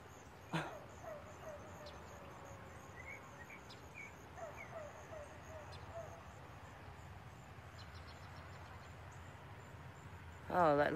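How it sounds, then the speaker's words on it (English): A dog howls in a drawn-out, wavering call at the very end, loud against a steady night background of crickets and insects, with a sharp sound near the start. "Hear the dog howling."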